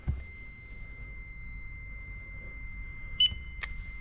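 A handheld barcode scanner gun reads a vehicle's barcode in an alignment shop: a thin electronic tone hums throughout, then a short sharp beep sounds near the end in a quiet room.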